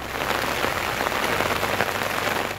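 Steady rain falling in Khyber Pakhtunkhwa, Pakistan: a dense, continuous hiss of drops hitting surfaces that stays at an even, fairly loud level throughout, with no voices.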